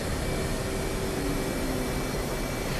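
An F/A-18C jet taxis in DCS World, heard as a steady, loud, unbroken engine roar with a faint high whine on top and no voices.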